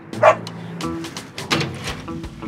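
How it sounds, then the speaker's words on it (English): A German Shepherd barks several times in close, loud bursts with uneven spacing, some sharper and some softer, with little else around them. "This one's Duke, the German Shepherd"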